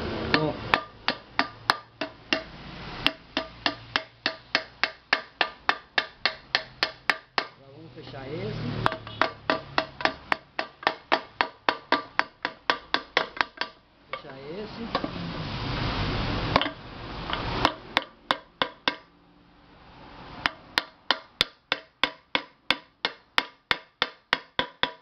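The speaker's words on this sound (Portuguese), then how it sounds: "eu tô usando um martelão pesado aqui" Heavy hammer blows ring out on metal in fast repeated runs with brief pauses, loud and close, with a voice talking in between.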